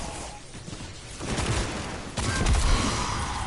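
Gunfire from the video game Ace of Spades: a few sharp bursts of rapid shots, the loudest near the end, over a noisy game background.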